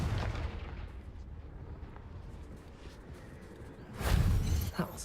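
Blasting Confringo spell in Hogwarts Legacy, a low rumbling blast swelling near the end after quieter battle noise, with a voice heard shouting.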